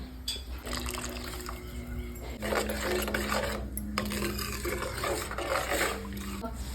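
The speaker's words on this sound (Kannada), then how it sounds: "ಚೆನ್ನಾಗಿ ಕುದಿಲಿ ನೋಡಿ ಚೆನ್ನಾಗಿ ಕುದಿತಾ ಇದ್ದೇವೆ" Mangalore-style fish curry boiling in a pot on the stove, a continuous close bubbling and rasping simmer that persists throughout with a low background hum.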